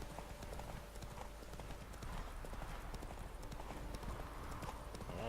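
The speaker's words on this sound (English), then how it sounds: "there's a random horse in front of us." Horse hooves in Witcher 3 clop in a steady, quick rhythm at close range, running continuously over a bed of ambient game sound with faint tonal music.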